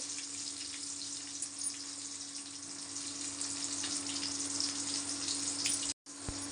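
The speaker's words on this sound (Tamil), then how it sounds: "கடுகு பொறிஞ்சிருச்சுங்க வரமிளகா கருவேப்பில வெங்காயம் தாளிப்புக்கு" Mustard seeds, red chilies, curry leaves and onion fry in hot oil for a South Indian tempering, a faint, steady crackling sizzle with one brief gap near the end.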